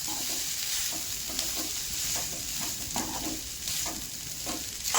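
Leftover cooked rice stir-fried in a pan gives a steady close sizzle, with repeated scraping stirs of a spatula running through it the whole time and no voices.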